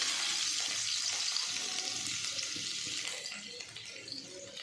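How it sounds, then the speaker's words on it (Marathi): Garlic sizzling in hot oil in a kadhai, a steady dense frying hiss that stays loud and close throughout, easing slightly toward the end. "कढईमध्ये आपण तेल टाकून गरम करून घेतलेलं आहे। सर्वात आधी त्यामध्ये आपण लसूण टाकूया।"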